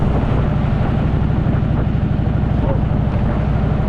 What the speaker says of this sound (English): It's hot, it's bloody windy.